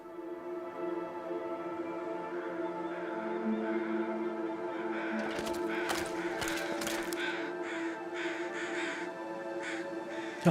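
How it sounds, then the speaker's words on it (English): Crows caw repeatedly in the snowy wilderness of The Long Dark, a series of harsh calls at mid distance rising over a sustained tonal drone, with sharp bursts clustered toward the middle. "Come on, give me a clue, crows."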